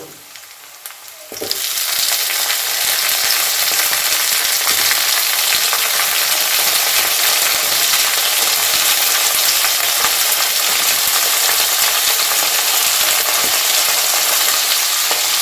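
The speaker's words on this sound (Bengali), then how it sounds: "এবার কিন্তু এই ভাজা পেঁয়াজের মধ্যে এই যে আমি কিউবস আকারে আলুগুলো কেটে রেখেছি, এই আলুগুলো কিন্তু আমি দিয়ে দেব।" Cubed potatoes tipped into fried onions in a pan, a sudden loud burst of sizzling that starts after a quiet moment and then holds as a steady, close, intense fry.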